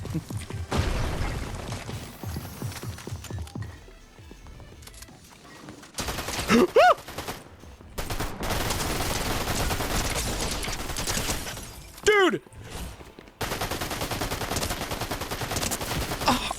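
Gunfire from a Fortnite match comes in repeated bursts of rapid automatic shots with brief gaps and sudden cutoffs. The firing is loud and close, and a short tonal game sound is heard between bursts.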